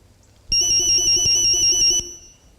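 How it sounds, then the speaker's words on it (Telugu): A mobile phone ringtone plays for about a second and a half: a bright, repeating electronic melody that starts abruptly and then cuts off. "ఇదేంటి నా సెల్ కూడా రింగ్ అవుతుంది?"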